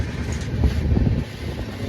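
A moving passenger train near Haridwar gives a continuous, fairly loud low rumble from inside the carriage, with faint rattling and no voices.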